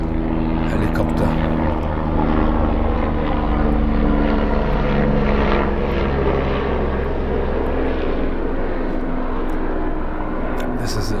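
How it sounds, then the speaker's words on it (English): A loud, steady engine drone with a rhythmic thrum fills the air throughout, like an aircraft passing low overhead. "Helicopter."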